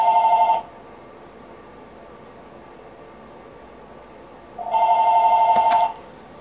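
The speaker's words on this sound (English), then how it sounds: "Phone." A telephone rings in two bursts of bright electronic trilling separated by a few seconds of quiet hiss, close and loud with no talk.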